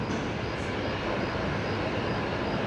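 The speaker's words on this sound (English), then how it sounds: "this is an A220 coming in here from Melbourne, Qantas Link" A Qantas Link Airbus A220 arrives at Brisbane from Melbourne, heard as a brief, fairly faint, steady jet rumble.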